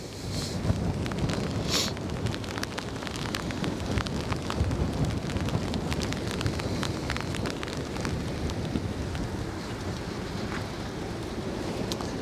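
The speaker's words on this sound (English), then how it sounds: "Oh, you hear the rain?" Rain falls outdoors beside the Westerschelde waterway in the Netherlands, a steady soft hiss of drops mixed with gusty wind noise on the microphone, constant and fairly quiet with no talking.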